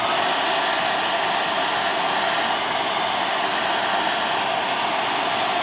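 A hair dryer on its low setting warms a 1:18 scale Black Canary action figure, a steady, close, loud whooshing blow of air with no change in pitch or level throughout.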